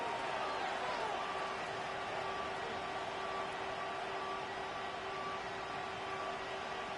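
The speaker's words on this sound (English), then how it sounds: "This crowd into it now." Steady roar of a stadium crowd at a Ravens vs Steelers NFL football game, a dense continuous wash of noise with no distinct cheers standing out.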